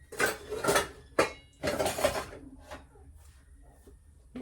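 Kitchen dishes and utensils being put away by hand, with several clattering bursts of metal pots and cutlery clinking and scraping, then quieter rattles toward the end.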